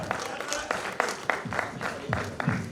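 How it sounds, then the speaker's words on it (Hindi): An audience claps in a steady rhythmic beat, with voices speaking over the applause. "एक बार जोरदार तालियां होनी चाहिए"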